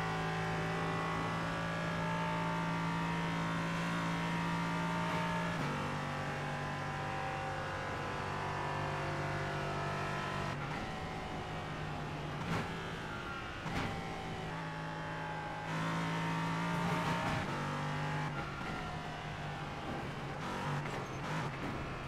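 Race car engine in a racing video game, a steady droning hum with rising and falling revs and a few brief bumps, running continuously and fairly loud throughout.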